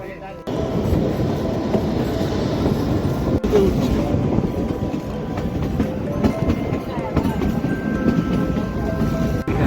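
Kalka–Shimla toy train rumbling steadily along the narrow-gauge line near Taradevi station, a continuous close-up rattle of wheels and carriages throughout, with someone talking over it.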